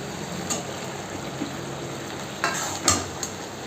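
Fried fish heads are added to a pot of simmering vegetable curry with greens, potato and eggplant, giving a soft bubbling sizzle with a few brief scraping stirs and clinks standing out.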